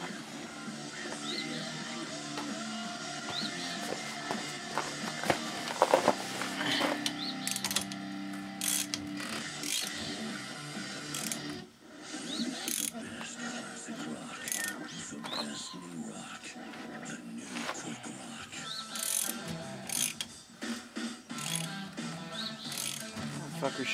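Ratchet working the rear wheel bearing bolts on an S10 Blazer, bursts of rapid clicking repeated in a garage, close and moderately loud, with some background noise between strokes.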